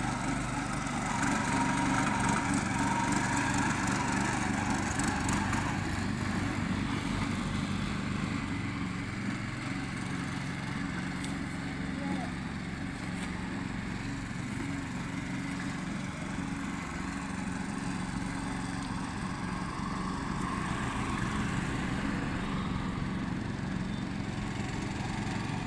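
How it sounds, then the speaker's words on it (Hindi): A small 7 HP power tiller engine runs steadily and loudly throughout while pulling a trailer, its droning mower-like chug continuous and close, with no speech over it. "लेकिन ये 7 HP का छोटा वाला ड्रिलर है"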